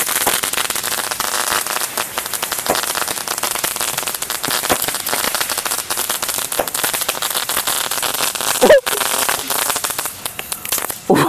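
Diwali firecracker shots burst and crackle nonstop, a dense, loud rattle of pops with the debris falling back down, rain-like and continuous throughout.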